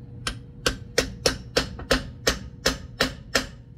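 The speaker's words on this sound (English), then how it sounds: "I'm going to give it a couple little taps with the hammer" A hammer taps a lower ball joint shaft into an off-road steering knuckle, ten sharp metallic knocks at an even pace of roughly three per second, close and distinct over a quiet background.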